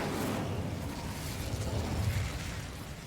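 A fire spell cast in the video game Hogwarts Legacy gives a sustained roaring, crackling burst of flame that stays loud and dense for about three seconds, with no talk over it.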